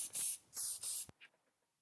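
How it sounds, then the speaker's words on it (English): Far Away Aloha perfume sprayed from an atomizer in three close, hissing bursts followed by a sharp click, then quiet. "Let me spray it."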